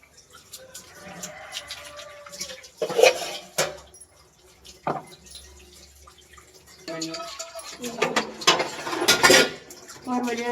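Dishes clatter and water splashes in a sink, with scattered clinks of pots and utensils and a few louder bursts of scrubbing and rinsing.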